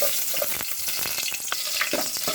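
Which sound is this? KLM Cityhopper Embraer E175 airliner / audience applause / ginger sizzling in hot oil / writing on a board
ginger sizzling in hot oil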